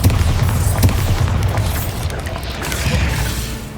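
A Bombarda blasting spell in Hogwarts Legacy lands as a loud, close boom that rolls into a long rumbling decay, with a few crackling pops scattered through the tail.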